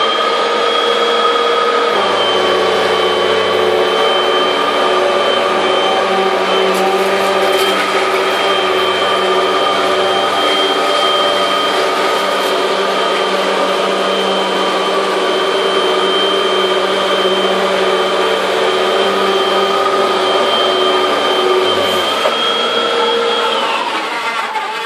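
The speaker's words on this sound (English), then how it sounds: "Let's rev up the Hoover, let its cyclones go," A Hoover Windtunnel Max upright vacuum cleaner runs loud and close, a steady motor whine with layered tonal hum that holds level for most of the stretch, then shifts near the end as the machine changes load.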